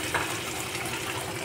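Spice masala with softened tomatoes sizzles as it fries in a pan for pomfret kosha, giving a steady, close hiss with no voices.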